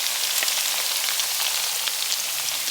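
Green peppers and red onions frying in a pan, added as a final topping over browned carne frita and turkey sausage fried rice, giving a steady close crackling sizzle with dense spitting pops throughout.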